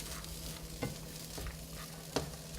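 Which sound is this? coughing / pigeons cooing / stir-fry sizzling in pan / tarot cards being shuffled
stir-fry sizzling in pan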